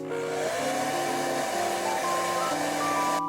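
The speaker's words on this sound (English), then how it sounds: "you can use a hair dryer" A hair dryer blows steadily with a whirring motor hum, its pitch shifting slightly as it runs, close and continuous with no talking.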